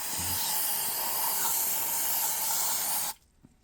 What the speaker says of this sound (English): We've got some carbon intake cleaner.